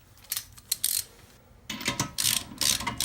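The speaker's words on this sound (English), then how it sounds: "Put the spark plug back in." A spark plug is threaded back into an engine by hand during valve spring replacement, giving a string of small close metallic ratcheting clicks that stops briefly, then turns into busier scraping and turning sounds, with no talking.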